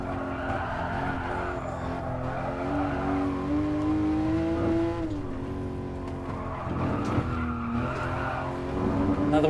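A race car at night on Bathurst in GT Sport, its engine droning and swooping through gear changes while the tires squeal and slide out of a corner, loud and continuous, with no talking over it.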